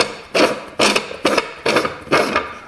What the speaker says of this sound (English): Off comes the milling chamber lid.